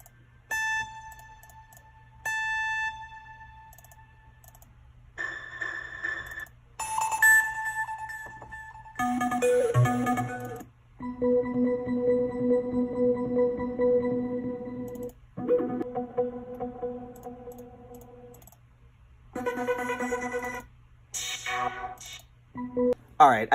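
Synth arpeggio patches auditioned in FL Studio for a trap beat, short bright tonal runs switching between sounds with brief gaps, moderately loud and alone.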